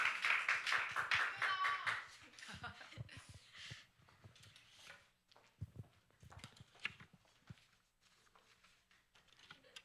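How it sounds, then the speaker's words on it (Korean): Audience applause greets the start of a church youth group presentation, loud and dense at first, then thinning into scattered claps and faint shuffling. "자 박수로 시작하겠습니다."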